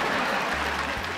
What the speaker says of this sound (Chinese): 猜对的朋友鼓鼓掌给自己啊